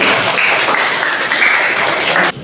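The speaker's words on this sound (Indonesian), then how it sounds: "berikan tepuk tangan untuk kelompok." Applause from a classroom audience for a student group after its presentation, a steady wash of many hands clapping close by for about two seconds, then stopping abruptly.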